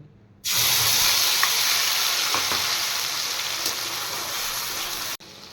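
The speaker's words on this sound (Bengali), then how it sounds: "এদিকে তেল গরম হয়ে গেছে তেলে কিছু ফোড়ন দেব না দিয়ে দিচ্ছি পেস্ট করে রাখা আদা পেঁয়াজ রসুন আর সর্ষে" A paste of ginger, onion, garlic and mustard hitting hot oil, bursting into a loud, steady broadband sizzle that starts abruptly, holds for about five seconds with slight fading, then cuts off sharply.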